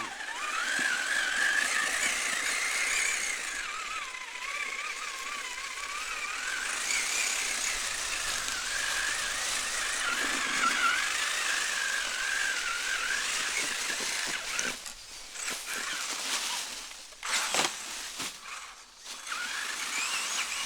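Traxxas Summit RC truck on 40 series Mickey Thompson Baja MTZ tires climbing rock slabs off-road, its electric motor whining steadily and loud and close for most of the stretch, then breaking into short uneven bursts near the end.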